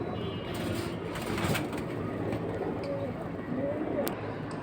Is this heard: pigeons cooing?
yes